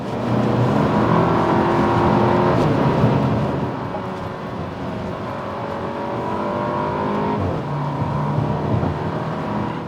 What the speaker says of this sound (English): the flaps in the exhaust, they open up, and you can just have an absolute listen to that